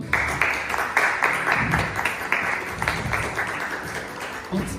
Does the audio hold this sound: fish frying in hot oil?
no